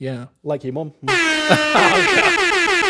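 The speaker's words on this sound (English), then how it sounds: "Thank you, Airhorn guy." A loud, sustained air horn blast cuts in right after a short spoken phrase and holds for about two seconds, harsh and brassy.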